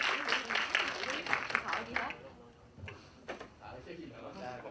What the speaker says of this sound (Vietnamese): một tràng pháo tay dành cho Huỳnh Lập